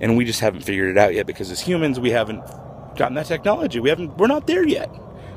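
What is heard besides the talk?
No everyday noises stand out.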